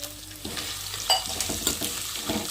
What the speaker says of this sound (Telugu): ఇంకా లైట్గా వేయించుకున్నామండి కొంచెం కలర్ వేసినాక